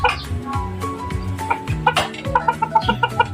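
A pet silkie chicken clucks in a rapid string of short, close calls that quicken toward the end, with a few louder squawks mixed in.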